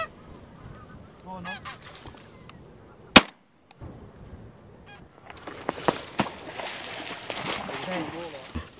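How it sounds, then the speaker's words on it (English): Geese honk repeatedly at close range during wildfowling over decoys, with a sharp gunshot cracking partway through and noisy splashing and flapping of water following. "the geese are starting to show more interest in the deeks"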